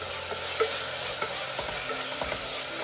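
Sautéed onion and chopped tomato are stirred in a pan, a continuous close sizzle broken by soft scrapes and light knocks of the spoon at irregular intervals, with no voices.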